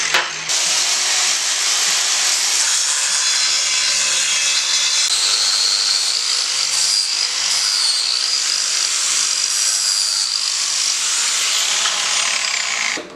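An old metal mount on a Mercedes-Benz 131 being cut and ground off, a loud, steady, high grinding whine held for about twelve seconds, with the pitch shifting slightly as the tool bears down.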